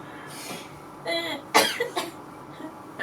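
Several harsh coughs burst out close to the microphone, spaced over a few seconds with quiet breaths between them.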